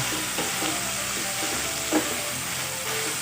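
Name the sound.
sirloin beef sautéing in oil for pepper steak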